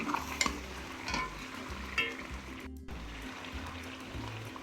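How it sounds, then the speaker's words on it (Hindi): Oil poured into a hot pan of sizzling masala for chicken karahi, giving a steady frying hiss with stirring scrapes and a brief louder splash, close and continuous with no talk. "अब इसमें हम ऑयल डालते हैं।"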